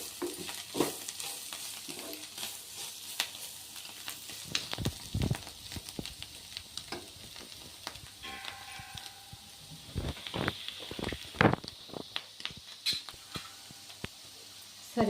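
Onions fry in oil in a pan for a bitter gourd stir-fry, a soft background sizzle broken by intermittent scraping stirs and clattering knocks of a spoon against the pan, close by with no talking.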